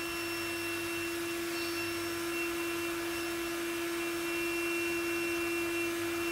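An Exped Widget battery pump runs steadily while inflating an Exped Megamat Duo sleeping mat, giving a constant close electric whine and droning hum with no pauses and no talking.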